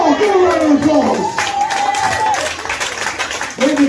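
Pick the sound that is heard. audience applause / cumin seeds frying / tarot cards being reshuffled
audience applause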